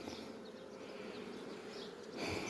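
Honeybees buzzing in an opened hive, a soft, continuous droning hum that stays even and close throughout, with no voices.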